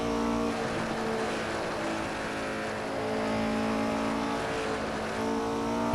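Race car engine, from a Porsche 908, Ferrari 330 or Ford GT40 in Assetto Corsa at Riverside, drones loudly and continuously under throttle, its pitch rising and easing slightly, with no talk over it.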